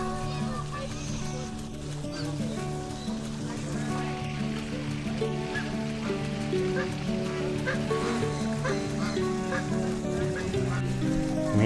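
Ducks at a garden pond beside a temple give repeated honking quacks throughout, moderately close, mixed with a running fountain while someone talks over them.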